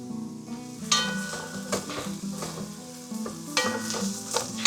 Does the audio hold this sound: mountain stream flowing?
no